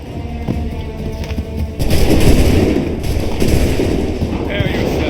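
Musket volley fire in Assassin's Creed III, a loud burst of booming shots at about two seconds that stays dense and rumbling, with shouted commands around it.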